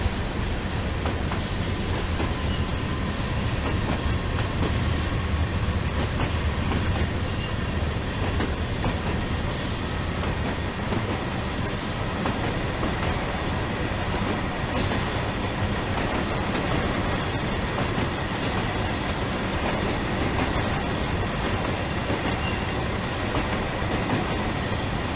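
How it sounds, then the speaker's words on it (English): A Class 66 diesel locomotive, an EMD-engined freight engine, pulls away gently on rails, its steady broadband rumble and wheel clatter continuous and loud throughout, with faint squeals and clicks from the wheels on the track. "Acceleration is gentle to begin with as we allow the locomotive to warm through"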